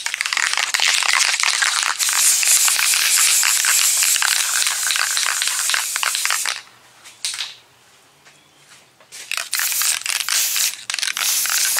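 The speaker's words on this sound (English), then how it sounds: "Let me go on and spray this guide coat." Guide coat is sprayed onto a fiberglass body repair on a 1988 Monte Carlo, a loud, close, hissing spray with rapid pulsing texture that pauses midway and then resumes in shorter bursts.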